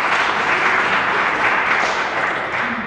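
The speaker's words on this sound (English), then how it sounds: "so please give them a round of applause" An audience claps loudly for the tech team at a talk on communication in tech, a dense, even burst of applause that holds steady and tapers slightly at the end.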